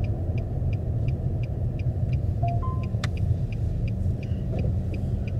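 A car drives along a road beside a lake, with a steady close engine and tyre rumble throughout and faint high ticking and a brief tone above it.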